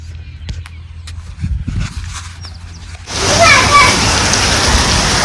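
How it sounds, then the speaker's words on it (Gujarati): Quiet murmurs and faint sounds give way to a sudden burst of steady rain, a loud hissing downpour that continues to the end. "વરસાદ પડે છે"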